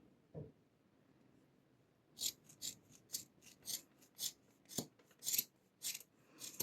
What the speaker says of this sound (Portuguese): Agora sim, a gente corta.